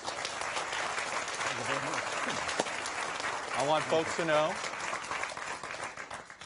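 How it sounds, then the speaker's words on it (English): An audience at a North Carolina gubernatorial debate claps for the candidates: steady, moderately loud applause that keeps going while people talk over it, fading toward the end. "Let's give them a round of applause."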